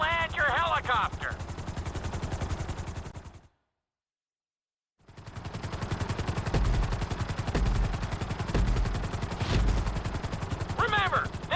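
A helicopter in GTA V flight school, a video game, makes a loud continuous rotor chop that cuts out to silence briefly and then resumes, with short electronic tones heard at the start and end.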